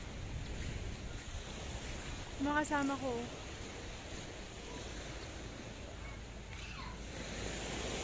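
Steady ocean surf washes along a Boracay beach as a broad, continuous rush, with a wind-like hiss and brief talk from a passerby partway through.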